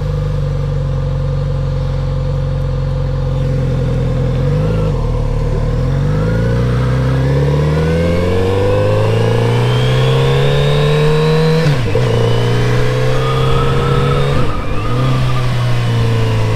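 A Kawasaki Z900RS Café motorcycle engine runs steadily while ridden two-up at slow speed, its pitch rising and falling through several gear changes. The engine note is loud and continuous with no talk.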